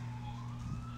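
An ambulance siren wails steadily and loud, a continuous tonal sweep with no talk over it.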